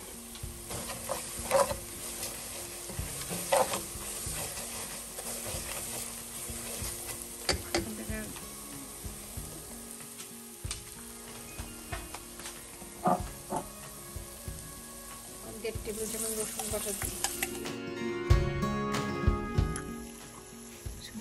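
Grated garam masala is stirred into browned onions frying in a pan, giving a continuous close sizzle broken by repeated scraping and clacking of the spoon.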